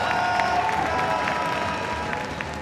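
A crowd at an esports event applauds and cheers in a steady, moderately loud wash of clapping that continues throughout.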